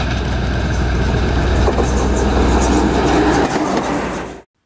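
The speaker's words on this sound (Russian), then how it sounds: "А это рабочий дизель-поезд D1." A working D1 diesel multiple-unit train runs with a steady, loud diesel engine drone and rumbling rail noise that continues evenly before cutting off abruptly.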